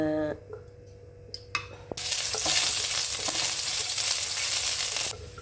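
Sliced pork belly dropped into hot oil in a heated pan, starting with quiet clinks and then a loud, steady broadband sizzle that holds close and strong for several seconds before easing slightly at the end.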